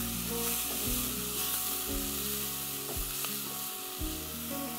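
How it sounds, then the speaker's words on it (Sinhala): Pandan and curry leaves are tempered in hot oil while cooking lollipop chicken masala, giving a steady, close sizzle and crackle throughout with occasional stirring knocks and no talk. "මේ සේරම අපි තෙම්පරාදු කරගන්න ඕනේ"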